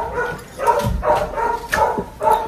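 Several dogs bark in short repeated bursts at a home in the Philippines, the barks fairly close and irregularly spaced, with no one talking.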